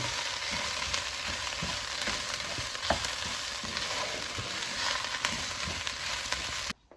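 Steady sizzling and frying of vermicelli and onion in a pan with occasional stirring scrapes, continuous and close, cutting off abruptly at the end.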